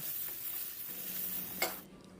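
A pan sizzles steadily with a faint hiss of spices and cauliflower frying with a little water, a brief scrape of stirring near the end, then the sizzle cuts off.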